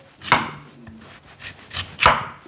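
Knife chopping radish into thick pieces on a board, a handful of sharp, close chops spaced unevenly, with the loudest strikes near the start and end and quiet gaps between, no talking.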